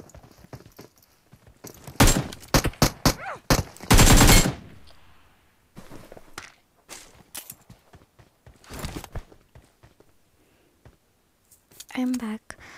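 A bot fires a gun in the battle royale game BGMI. Sharp gunshot bursts come in clusters, loudest early on, then taper to scattered pops, with someone talking over them.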